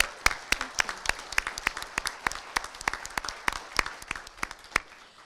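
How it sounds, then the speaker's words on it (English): A modest crowd at a film festival awards ceremony claps for Sam, the festival coordinator. Individual claps stand out sharply in a quick, uneven patter that carries steadily throughout, then eases slightly toward the close. "Round of applause."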